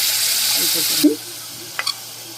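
Broad steady sizzle of a hot pan for tarka that cuts off abruptly partway through, with chili powder and a splash of water added and a couple of brief clinks afterward over low background hum.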